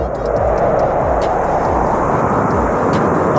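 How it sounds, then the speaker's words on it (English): Military fighter jets, F-16s or F-18s, roar overhead in a continuous loud broadband rush that holds steady throughout, with no talk over it. "Hold on, we got some F-16s."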